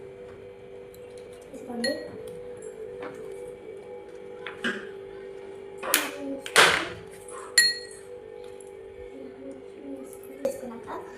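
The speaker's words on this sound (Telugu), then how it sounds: "నెక్స్ట్ ఐస్ క్యూబ్స్ ఉంటాయి కదా, ఎన్ని కావాలంటే అన్ని వేసుకోవచ్చు." Ice cubes dropped into a glass of lemon salt drink, giving a few sharp clinks spaced over several seconds under a steady background hum, with a brief spoken word.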